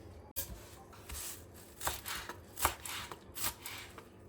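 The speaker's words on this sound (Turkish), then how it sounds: "Şimdi maydanozla başlayalım. Güzel güzel doğrayalım." A knife chops parsley on a cutting board in quick, uneven taps, fairly quiet and close, with no talking.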